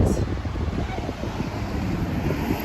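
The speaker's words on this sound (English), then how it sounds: "And the wind." Wind gusting outdoors through a Nairobi neighborhood at sunset, a low rumbling buffet across the microphone that stays continuous and fairly loud.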